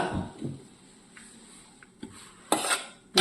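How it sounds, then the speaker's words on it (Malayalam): Heated coriander and chili powder stirred into a pan for a Kerala onion thoran, with a few soft scrapes and clinks of a metal spoon against the pan, close, faint and sparse, and a louder clatter near the end. "മല്ലിപ്പൊടിയും മുളക് പൊടിയും ചൂടായത് ഇതിലേക്ക് ഇടണം നന്നായിട്ടൊന്ന് ഇളക്കുക"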